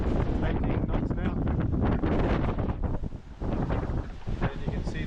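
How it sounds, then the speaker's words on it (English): Strong wind buffets the microphone aboard a keelboat under sail, gusting at about 15 to 20 knots almost on the beam on the crossing to Bundaberg, a loud continuous roar with rustling and water noise underneath. "we've got 15 to 20 knots of wind"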